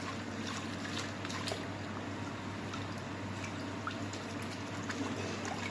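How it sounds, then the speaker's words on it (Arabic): Water and sugar are poured gradually into a dough mixture for homemade petit four biscuits, a soft continuous trickling and dribbling close by, low and even throughout. "نجي المي والشكر هذا اللي نديره، نخطه خطه خفيفه."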